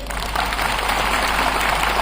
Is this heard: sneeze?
no